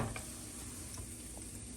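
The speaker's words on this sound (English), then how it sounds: "sizzling kind of slow down a little bit" Flour and grease sizzle softly in a pan for gravy, a faint, steady crackling hiss with a few light ticks of stirring.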